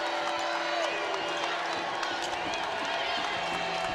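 An arena crowd at a women's college basketball game at Stegeman Coliseum, a broad continuous roar of cheering with whoops and scattered clapping, loud and sustained under an announcer's voice.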